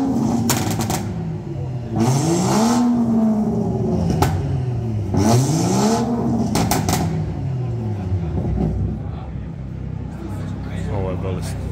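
Loud engine revving from cars gathered at a garage car meet, with repeated rising and falling rev sweeps and crackling bursts over a steady crowd murmur and talk.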